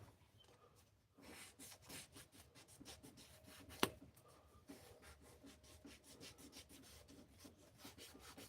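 Sandpaper rubs by hand against a wood pen turning on a lathe, finishing at 600 grit, a faint, steady rasping with quick rhythmic strokes and one sharp click partway through.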